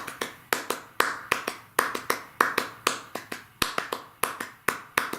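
Three or four performers clap a shared rhythmic pattern together in a classroom music demonstration, sharp close claps in steady repeating groups with no talking.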